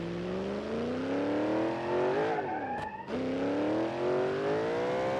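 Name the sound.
car engine revving in the video game BeamNG.drive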